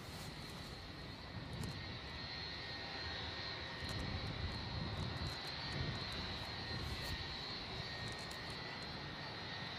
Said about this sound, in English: Let's take in the majesty of this stunning 757-200.